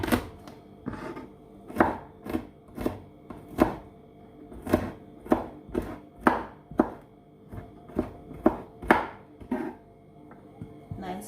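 A knife chops garlic on a board in a kitchen, roughly twenty crisp close strikes in an uneven but steady rhythm, each sharp and distinct against near silence.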